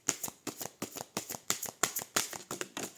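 Oracle cards being shuffled and drawn, a quick series of about nine crisp riffling snaps in a steady rhythm, close and fairly quiet, with no talking.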